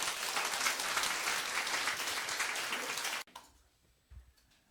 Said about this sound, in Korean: 우리 뜨겁게 박수로 환영하시겠습니다.